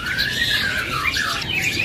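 A caged songbird sold at a bird kiosk gives a loud, close, continuous squawking call with wavering, squealing pitch, heard alone.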